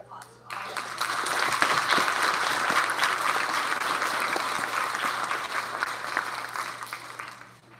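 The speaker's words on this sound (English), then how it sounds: "let's give a big round of applause to all of them" Audience applause for the paras at an elementary school awards event, a full, even wash of clapping that begins abruptly, stays steady for several seconds and tapers off at the end.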